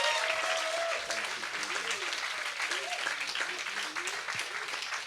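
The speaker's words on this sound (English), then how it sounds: "Such a big round of applause, big hand of applause" A studio audience claps for a singer after her performance on a chat show, steady hand-clapping throughout with a voice speaking over the first part.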